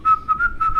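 A person whistles a short tune, clear and close, with several sustained notes in quick succession.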